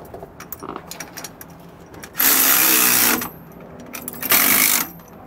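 An impact-style power tool tightens a bolt on a steering stabilizer bracket for a 2004 Ford in two loud bursts of whirring rattle, separated by small metallic clicks and handling taps.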